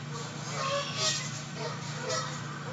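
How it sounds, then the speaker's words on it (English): Crows mobbing a raptor outdoors in spring, giving repeated harsh, honking calls at a moderate distance over a steady background hum. "So now we've got crows mobbing a raptor."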